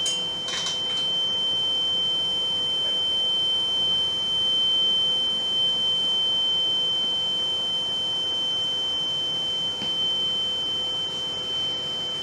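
A smoke detector head sounds its alarm during a gas test: a steady, continuous high beep tone holds through the whole stretch at moderate level, over a faint background hum, with no talking.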